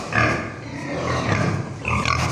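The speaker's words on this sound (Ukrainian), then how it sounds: "Ми тільки що попали на свиноферму" Pigs grunting and snorting in a steady, noisy din on a pig farm, several animals close by with overlapping low grunts throughout.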